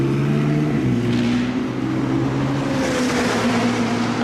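A McLaren 675LT sports car drives around a track, its engine a loud, sustained roar with shifting tones as it accelerates, heard nearby and alone with no talk.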